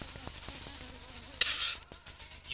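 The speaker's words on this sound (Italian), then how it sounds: "tutto avviene fra una miriade di mosche" A dense swarm of flies in the hot, dry Australian outback gives a steady, close buzzing hum that wavers in a quick pulsing rhythm without pause.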